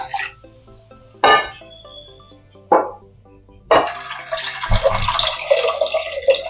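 Water poured into a pot for cooking dal, preceded by a few sharp metallic clinks of utensils, then a steady splashing pour that runs to the end.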